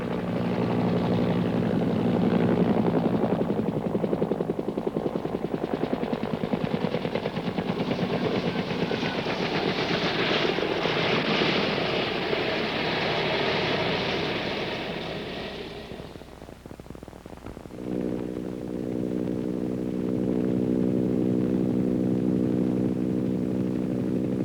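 An AH-1G Huey Cobra gunship in flight gives a loud, steady turbine whine and rotor drone that fades briefly near the end, then returns as a lower, evenly pitched engine tone.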